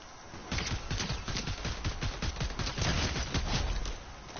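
Sniper fire in Fortnite: a rapid string of sharp, close gunshot cracks repeats steadily through the whole stretch over a dense, noisy game background.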